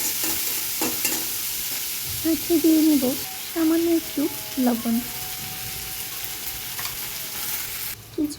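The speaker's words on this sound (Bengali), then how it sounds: "কিছুক্ষণ যাবত আমি ভেজে নিচ্ছি" Ingredients for a dried fish mash fry in a pan with a loud continuous sizzle and scraping stirs. Someone talks over the cooking partway through.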